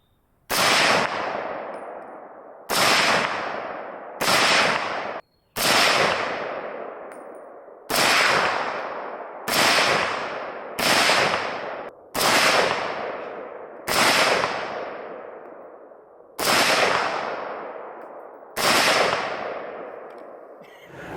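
A dirty, cosmoline-clogged Type 56 SKS rifle test firing at an outdoor range: about eleven loud, sharp single shots at irregular intervals of one to two seconds, each with a long ringing decay, and no talking.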